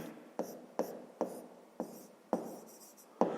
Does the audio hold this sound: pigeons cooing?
no